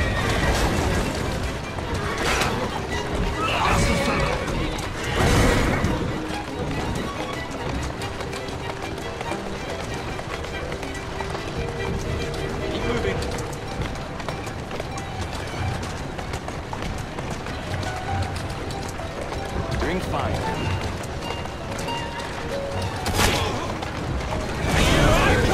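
Horse-drawn carriage chase in Assassin's Creed Syndicate set in London: steady rumbling wheels and hoofbeats with occasional whinnies and crashes, under game dialogue and a constant dense background throughout.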